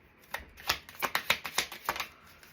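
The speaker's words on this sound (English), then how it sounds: "Shuffling for 3" A deck of cards is shuffled in a series of about ten sharp, close riffling bursts, quick and uneven, heard alone in a quiet room.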